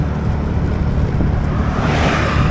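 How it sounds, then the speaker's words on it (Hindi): Cars rush past on a newly built highway near Patiala, Punjab, a steady loud roar of traffic with a swelling whoosh as a vehicle goes by near the end, no voices. "देखिए कैसे फटफड़ाती हुई गाड़ियां जा रही हैं, फर्ल से जा रही हैं, फर्ल से।"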